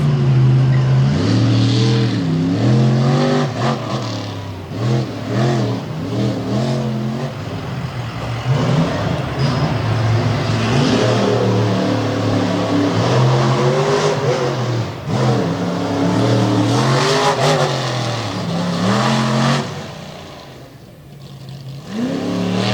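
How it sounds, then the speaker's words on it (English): Bigfoot 18 monster truck at a freestyle event on a gravel track in Bloomsburg, Pennsylvania, its engine revving hard with rising and falling surges, loud and continuous throughout. "Running the Bigfoot 18 machine hard."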